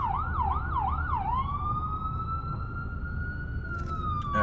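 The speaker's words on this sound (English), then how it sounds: "we got an ambulance coming by" Ambulance siren wailing on a New York City street, a rapid yelp shifting into a long steady tone as it passes nearby over traffic rumble, ending with a few sharp horn-like blasts.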